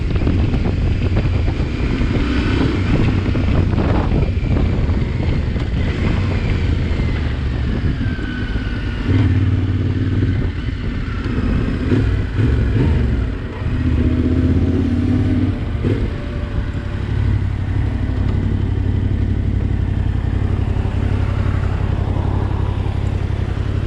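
Ride on a Yamaha Tenere T700 or KTM 790 Adventure R motorcycle, a low steady engine drone that swells with throttle under heavy wind rush across the microphone, continuous and close without speech.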